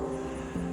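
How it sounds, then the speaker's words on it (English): A propeller airplane flying near Cumberland Airport, heard as a steady, droning engine hum, continuous and moderately loud with no talk. "there goes an airplane out right now."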